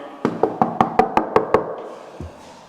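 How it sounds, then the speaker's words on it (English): Knuckles rapping on a door in a public office building: eight sharp, evenly spaced knocks in quick succession, close and loud, followed by a softer single thud. "I'm just knocking a couple knuckles here"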